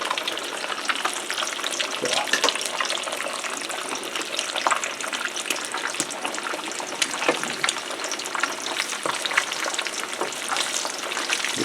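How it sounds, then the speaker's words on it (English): Eggs frying in a pan for biscuits and gravy, a loud, dense, continuous sizzle and crackle close up with a few scraping clicks, no voices. "Get them eggs a cooking up there."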